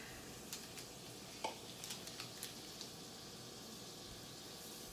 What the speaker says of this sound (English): The sizzle is a wonderful sound.